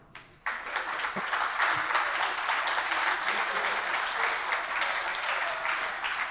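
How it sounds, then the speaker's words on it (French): A conference audience applauds after a technical talk on AWS Lambda, the clapping starting abruptly and holding as a dense, steady roar of many hands for several seconds. "Je pense qu'on peut applaudir la présentation."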